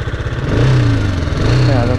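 A BMW G310R motorcycle engine runs close by, a steady mid-pitched throb that swells slightly as it revs, with a person talking over it.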